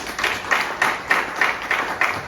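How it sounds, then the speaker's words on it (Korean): Audience applause at a Korean church gathering as a pastor is introduced to give a talk, heard as a steady moderate clapping with regular pulsing swells, fairly close and without talk over it. "박수 부탁드리겠습니다."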